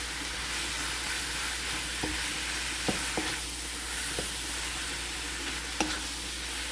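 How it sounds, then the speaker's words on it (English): Lean ground beef fries in a pan under a constant sizzle, with a few scattered clicks and scrapes from stirring as the meat browns. "I'm going to add my lean grounded beef. We're going to mix this until this will become brown"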